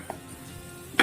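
Green garlic drops into hot butter or oil in a pan for Manchow soup, a brief faint sizzle with a soft stir, then a sharp louder burst of frying at the end.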